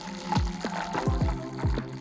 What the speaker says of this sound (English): pour it back in the package